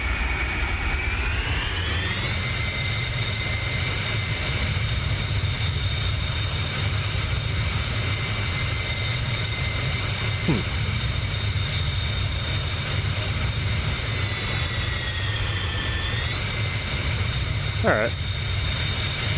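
A Bell 47 helicopter engine in the DCS flight simulator drones steadily at close range, with a sustained whining tone that rises after a couple of seconds and dips near the end, under a brief spoken word.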